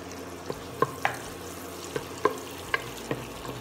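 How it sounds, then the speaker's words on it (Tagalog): Garlic sautéing in melted butter in a pan for beef stew, with a low steady sizzle broken by sharp, evenly spaced taps and scrapes of a spoon stirring, close and with no voices. "Once na ready na ito at melted na ang ating butter, una kong isusute ang ating garlic."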